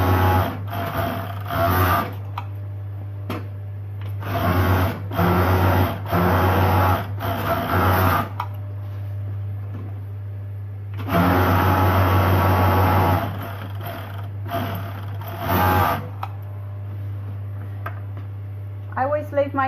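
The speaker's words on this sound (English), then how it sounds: "we're going to just overlock round our inside of our bag" An overlocker stitches around the inside seam of a fabric tote bag in repeated bursts of rapid mechanical whirring, with pauses between runs and a low steady hum throughout.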